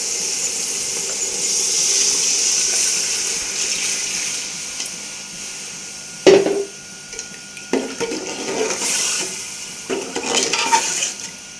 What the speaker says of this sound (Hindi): अब हम इसमें तकरीबन 2 लीटर पानी ऐड कर देंगे